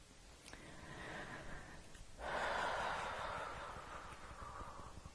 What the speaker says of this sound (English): Breathing and tapping.